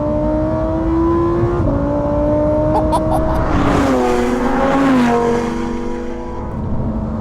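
A Lamborghini Huracan STO's 5.2-litre V10 accelerates loud and close, its rising howl stepping up through quick gear changes and swelling into a rasping peak before easing off.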